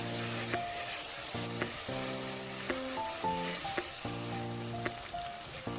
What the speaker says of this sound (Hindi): ये 1-2 मिनट के लिए भून लेंगे।